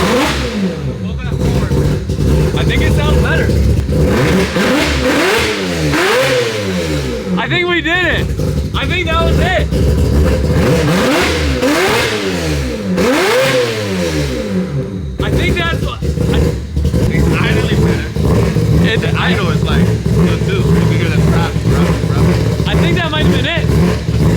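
A four-rotor rotary engine in a Toyota Supra revs hard again and again, its loud growl climbing and falling in pitch with each blip of the throttle, close by.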